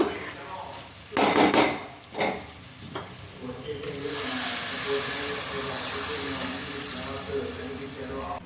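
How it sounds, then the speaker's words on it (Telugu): Water is poured into a pot of mutton curry in a steady, quiet gush, after a few clattering knocks of utensils. "వాటర్ పోసేసుకుందాం"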